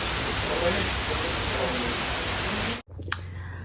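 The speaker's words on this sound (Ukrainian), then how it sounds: "У нас злива." Heavy rain pours down in a steady, loud, hissing wash that fills nearly the whole clip, then cuts off abruptly, leaving a quieter background with a faint knock.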